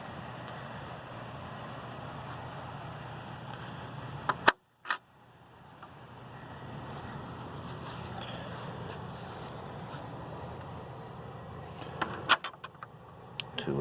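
A metal gate latch worked by hand, a sharp clack and rattle partway through and more clicks near the end, over a steady outdoor hum with no voices.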